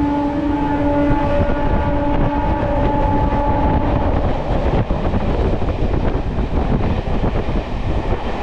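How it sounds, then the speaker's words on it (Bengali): A Santragachi–Jhargram MEMU train runs past Bauria station in a loud steady rumble with wheel and rail roar throughout, a sustained tonal hum fading midway, and no one talking. "বাউরিয়া স্টেশন পার করছে আমাদের এই ট্রেন"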